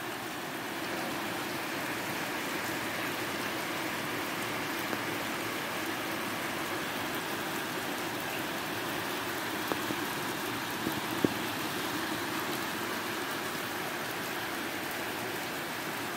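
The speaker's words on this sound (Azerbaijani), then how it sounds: "Bereketli yağış yağmur." Steady rain falls outside a window, a constant even hiss of drops across the whole stretch with a few faint taps and knocks now and then; no voices.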